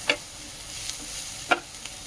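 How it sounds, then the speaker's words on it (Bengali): Turmeric powder frying lightly in a pan with vegetables, while a spatula scrapes and stirs twice over a soft, steady sizzle. "অল্প হলুদ গুঁড়ো, তো এখানে হালকা ভেজে নিয়েছি।"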